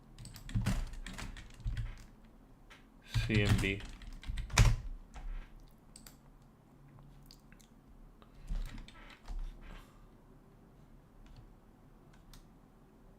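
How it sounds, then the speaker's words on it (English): Typing on a computer keyboard in a home setup, with scattered clusters of clicky keystrokes and a few louder key presses, heard up close alongside occasional speech. "Windows-L on the keyboard now"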